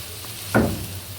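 Sliced onions hit hot mustard oil in a pan while beef tehari is being cooked, giving a sudden burst of sizzling that settles into a softer, steady fry.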